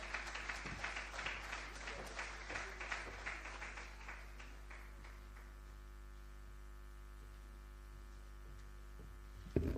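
An audience at the African Diaspora Summit in Ghana applauds to welcome the Deputy Chief of Staff, a moderate patter of clapping that fades away after a few seconds, leaving a steady electrical hum.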